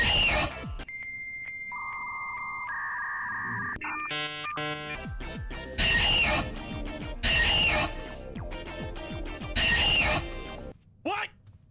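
Roblox Doors horror game with the Screech entity attacking: a chaotic mix of beeping ringtone-like tones and stepped synth notes, then repeated loud shrieking bursts that pop up again and again, ending in an abrupt squeal.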